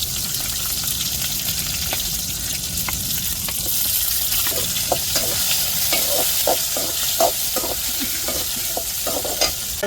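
Chopped onions sizzle and crackle steadily as they sauté in a hot pan, with occasional stirring clatters and sharp pops standing out over the constant frying hiss.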